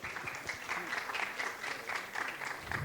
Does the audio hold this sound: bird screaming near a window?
no